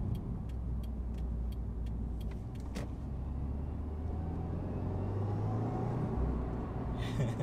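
Subaru WRX (2015 or later) with a Cobb Stage 1 tune, driving from first into second gear through a left turn; a steady, moderately loud low engine drone runs throughout, with the pitch shifting as the gear changes.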